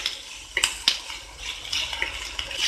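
Onions and capsicum frying in a pan for salt and pepper chicken: a low sizzle under sharp clinks and scrapes of a utensil stirring against the pan, close and irregular, with no talking.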